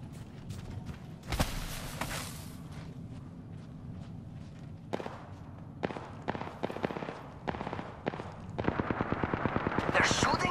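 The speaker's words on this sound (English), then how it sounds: "The enemies are shooting at me." Gunfire from enemies in the Apex Legends video game, bursts of shots in a busy firefight with rapid, repeated cracks swelling near the end, mixed with footsteps and game noise.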